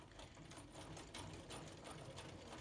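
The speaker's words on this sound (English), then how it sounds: "you're going to sew that seam" A sewing machine stitches a quilt seam in a steady, fast mechanical whirr with rapid needle clatter, continuous and close but quiet.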